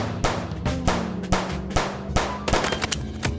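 Video game gunfire from Chicken Police rings out as a series of sharp shots spaced roughly half a second apart, loud and close, with a quicker cluster of shots toward the end.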